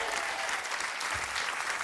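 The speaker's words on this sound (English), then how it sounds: "Give them a round of applause." A studio audience on a game show applauds in a brief, dense burst of clapping that holds steady at moderate volume without speech.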